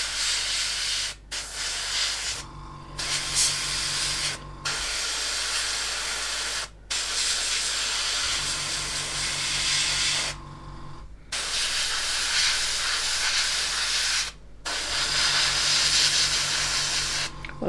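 Airbrush or spray can misting paint onto a model aircraft cockpit, a series of steady hissing bursts lasting a few seconds each, separated by brief silent gaps, close and fairly loud with no talking.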